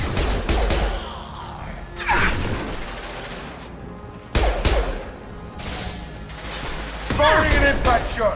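Gunfire and explosive impacts in Mass Effect 2 Legendary Edition: sharp bursts of shots and crashes in several clusters, loud and close, with a voice speaking among the combat.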